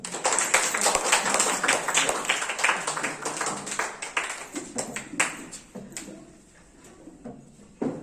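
Dense applause from a crowd at a school parents' session, close and lively, clapping strongly before thinning out to scattered claps near the end.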